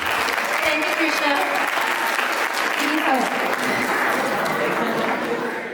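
An audience at a Diwali celebration applauds a small child dancing as Krishna, steady, full clapping from a crowd with chatter mixed in, tapering slightly at the close.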